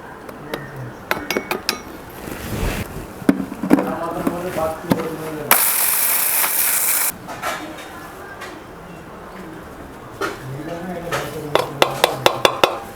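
Clinking and scraping of a utensil against a bowl as dry spice powders, including turmeric, are mixed for sambar powder, with brief taps and a burst of louder rustling midway.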